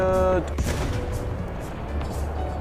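Tank cannon fire in the video game War Thunder, in a Japanese tank battle: a heavy boom lands near half a second and is followed by a long rumbling decay and scattered distant impacts, with a tonal engine or alarm hum at the start.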